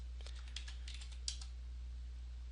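Quick bursts of keystrokes on a computer keyboard, light close clicks in a short flurry over a steady low electrical hum, with no one speaking.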